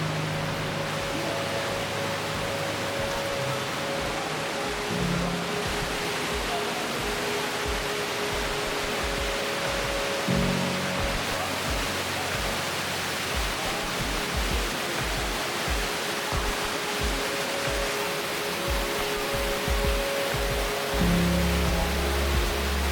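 A high-volume waterfall thunders inside a large natural cave, a continuous loud broadband roar with heavy echo that persists evenly throughout.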